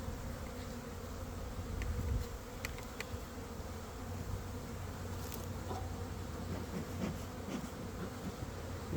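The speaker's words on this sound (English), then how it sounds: "There's a lot of bees." Honeybees buzzing densely around an open hive during a spring inspection, a continuous close hum with occasional louder passes of single bees, faint and steady with no talk.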